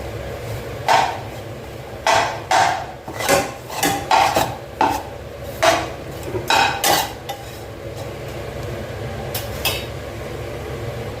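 A metal spatula scrapes and clanks against a kadai as dry ingredients for puliyodarai powder are roasted, with bursts of rhythmic stirring knocks close by, then a quieter stretch near the end.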